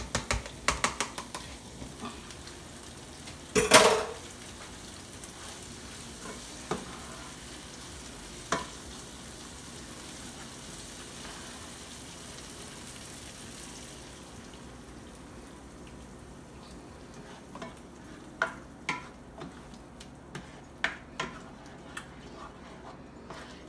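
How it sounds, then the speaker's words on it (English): Eggs fry in caramelized tomato sauce for a Nigerian egg sauce as they are stirred, giving a steady close sizzle with a few sharp spoon knocks and scattered scraping taps. "Just gonna mix everything around."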